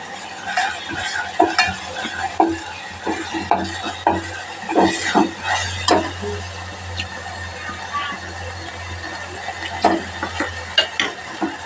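Soaked chili-garlic paste hits a hot pan for a moong dal and fenugreek greens dish, sizzling steadily up close while a spoon stirs and scrapes against the pan in irregular clatters.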